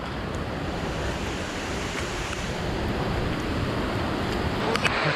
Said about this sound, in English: The rain only started to fall harder with every passing moment.